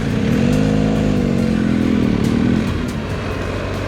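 Midland motorbikes setting off on a group ride from a diner and BP garage, a loud, steady engine drone rising in pitch as they accelerate away, then easing off toward the end.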